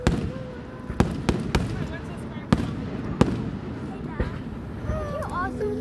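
Fireworks at a July 3rd show in Montgomery marking America's 250th birthday: a string of sharp, loud bangs at irregular intervals, some crackling, with people talking and whistles over continuous crowd murmur.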